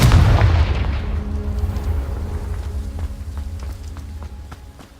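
A Confringo fire-spell blast in Hogwarts Legacy opens with a loud, close boom, then trails into a fading rumble with faint crackling over several seconds.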